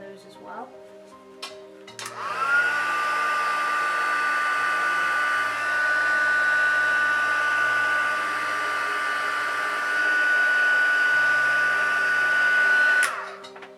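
A heat gun heat-setting a shoe upper during creasing work: a loud, steady blowing whine switches on after a couple of seconds, runs continuously for about eleven seconds with a slight dip midway, then cuts off.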